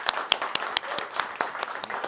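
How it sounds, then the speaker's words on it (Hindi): Applause from an audience at a film interview event, a thinner scatter of distinct claps with uneven rhythm, close and moderately loud, a few sharp hand claps standing out. "सो एक बार ज़ोरदार तालियां।"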